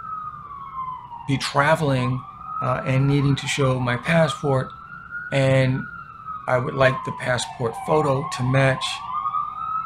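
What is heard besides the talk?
emergency vehicle siren outside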